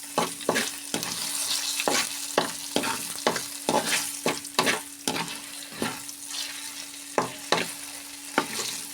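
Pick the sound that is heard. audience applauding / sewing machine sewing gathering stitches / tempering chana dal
tempering chana dal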